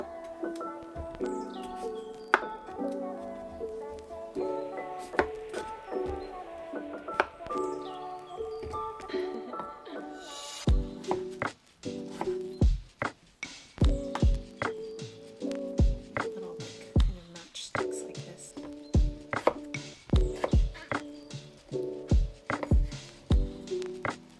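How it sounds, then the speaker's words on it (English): A Santoku knife chops scrubbed, unpeeled radish into 1-inch sticks on a cutting board: sparse cuts at first, then a steady run of crisp, close knocks, with music playing underneath. "First step is I'm gonna cut these into about 1-inch long sticks"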